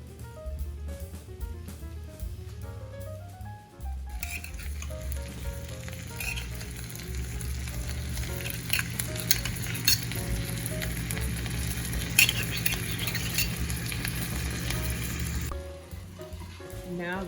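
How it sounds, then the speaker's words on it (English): Steady crackling sizzle of dates drizzled with honey frying in a pan, continuous and fairly close, with a faint voice murmuring briefly near the start. "you can hear a little sizzle there"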